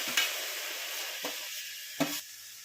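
Chopped tomato drops into vegetables sautéing in a pan, giving a soft hiss and sizzle with three sharp clinks of stirring.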